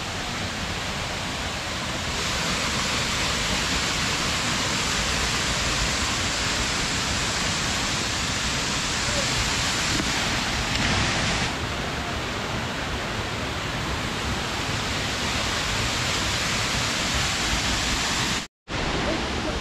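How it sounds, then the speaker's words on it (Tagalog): Edralin Falls waterfall roars as a loud, steady broadband rush of falling water, constant and close throughout, briefly cutting out near the end. "nandito na tayo sa may falls. Puntahan natin yung falls."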